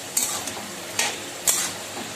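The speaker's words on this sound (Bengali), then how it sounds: "মিষ্টি দিয়ে আবারও ভালো করে কষাবো।" Ash gourd greens sautéing with sugar in a pan: a continuous oily sizzle broken by three brief scraping stirs of a spatula, close by and with no talking.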